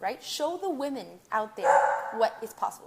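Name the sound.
puppy barking at someone outside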